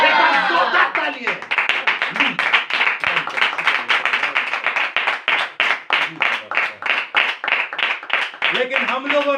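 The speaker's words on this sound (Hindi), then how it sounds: "एक बार जोरदार तालियां" Rhythmic clapping from a church congregation, steady beats in unison throughout, loud and close, with voices mixed in.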